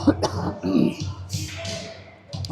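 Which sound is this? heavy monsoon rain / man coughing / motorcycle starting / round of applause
man coughing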